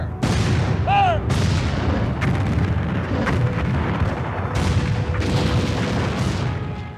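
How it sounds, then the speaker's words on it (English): Historic cannons fire at a national park in Arkansas, with deep booms and rumbling echoes filling the outdoor air, several blasts in a row, loud and reverberant, with faint voices in the background. "And it's fun to hear the cannons go off."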